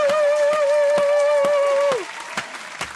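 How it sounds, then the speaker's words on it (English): Sparse, evenly spaced claps ring out during a comedy news show, a slow single-handed beat of about two claps per second under a sustained whooping tone that drops away partway through. "Let's give Judge Judy a round of applause,"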